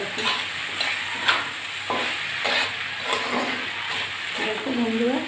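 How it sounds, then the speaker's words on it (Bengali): Potato bhaji stirred and frying in a pan, with continuous sizzling and repeated scraping strokes of a spatula, close and fairly loud, with a voice talking over it. "ভালো করে নাড়াচাড়া করে ভাজি করে দিচ্ছি"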